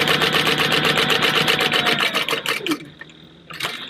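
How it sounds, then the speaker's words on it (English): A sewing machine stitches fabric for a book purse, running in a fast, loud, even burst of stitches, pausing briefly, then starting again. "we're sewing at 1/8 of an inch to the edge"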